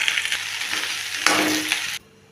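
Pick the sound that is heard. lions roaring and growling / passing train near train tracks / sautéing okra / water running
sautéing okra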